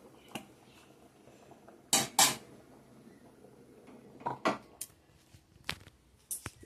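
A pot of boiled rice is lifted off a home kitchen stove, giving a few sharp metallic clanks and scrapes spaced by quiet gaps, close and fairly crisp, with no talking.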